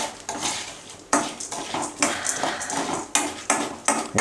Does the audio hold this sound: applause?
no